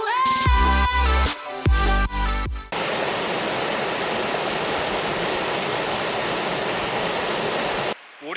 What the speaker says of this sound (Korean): 오련 폭포를 지나고 있습니다.